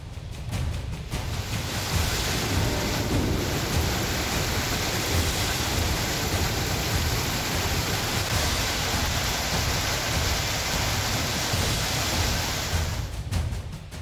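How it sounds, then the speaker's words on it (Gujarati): Heavy rain pours down in Gujarat during an unseasonal summer storm, a dense, loud, unbroken roar that holds steady for the whole stretch, with no voices. "છૂટો છવાયો નહીં પણ ધમધોકાર વરસ્યો"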